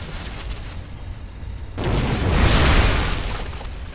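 A weapon explosion in the video game StarCraft 2: after a quieter stretch, a sudden broad boom erupts and rolls on as a sustained rumbling burst before easing off, with no talk over it.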